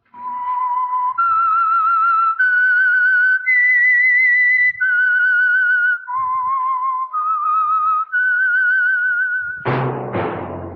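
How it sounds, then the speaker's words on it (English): A clear, pure whistled melody of sustained notes stepping up and down plays as the theme of the 1947 Signal Oil radio program The Whistler, ending with a sudden loud orchestral hit. "That whistle is your signal for the Signal Oil Program, The Whistler."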